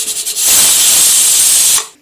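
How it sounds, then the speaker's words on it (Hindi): A pressure cooker cooking dalia (cracked wheat porridge) releases a loud, steady hissing whistle of steam for about a second and a half, then cuts off. "कुकर में सीटी आ गई है"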